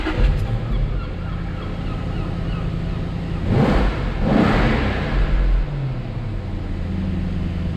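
A Jaguar S-Type R engine, fitted with a modified intake, idles with a steady low rumble, then revs up twice in quick swells before settling back to idle.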